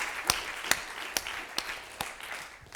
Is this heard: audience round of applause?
yes